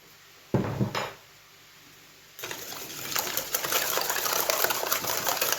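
Rapid scraping and clinking of a whisk in a bowl of ingredients with sugar, close and fairly loud, starting after a brief clatter and continuing steadily to the end.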